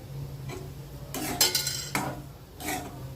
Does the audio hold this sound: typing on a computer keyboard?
no